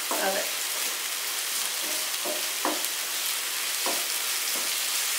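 Egg bhurji sizzles steadily in a pan, broken by several short scraping stirs at irregular intervals, close and fairly quiet with no talk.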